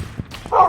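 A dog barks twice in a Minecraft game set in a village, short close yips followed by a brighter sustained whine, with no talking over it.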